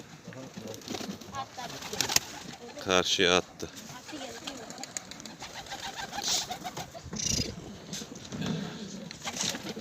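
Pigeons coo softly nearby and a brief flurry of wingbeats comes as one takes off, amid close conversation between people.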